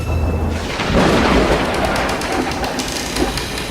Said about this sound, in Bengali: হঠাৎ বাইরে প্রচন্ড জোরে একটা বজ্রপাত হলো